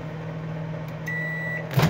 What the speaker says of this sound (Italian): vado a mettere al microonde massima potenza per 2 minuti